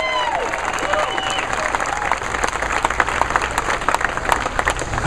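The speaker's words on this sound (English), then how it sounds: "Give them a round of applause." A crowd at a Republican gathering at the Illinois State Fair breaks into sustained applause, dense and fairly loud, with some cheering and voices mixed in.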